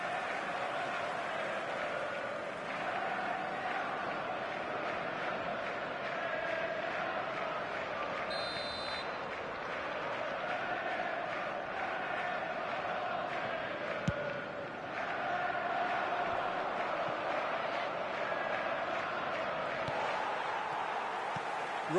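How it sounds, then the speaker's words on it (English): Dense football stadium crowd roar holds steady and loud throughout, a constant wash of thousands of voices with occasional swells, while a commentator talks over it. "the crowd level has gone up a notch or 10"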